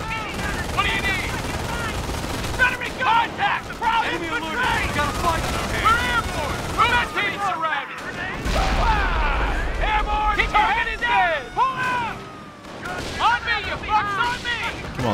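Dense gunfire and artillery from the Company of Heroes Normandy campaign, machine-gun bursts and rifle shots crackling nonstop with deep booms and a heavy explosion midway, loud and close under shouted voices.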